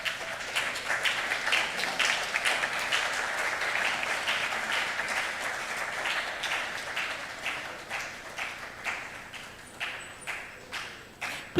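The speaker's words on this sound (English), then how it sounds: "Please continue with applause." Audience applause at an academic conference wrap-up session, sustained clapping from a sizable crowd that gradually thins into separate, fading bursts toward the end.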